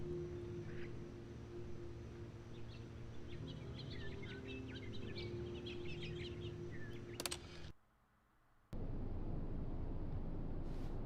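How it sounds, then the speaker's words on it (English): Birds in The Stanley Parable give scattered soft clucks and chirps above a steady low ambience for about seven seconds, then a sharp click, a brief near-silence, and the ambience returns without calls. "Hello, birds."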